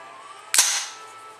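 A single sharp gunshot from a Rock River Arms LAR15 semi-automatic AR rifle firing reloaded ammunition cracks loudly and close, followed by a short fading echo.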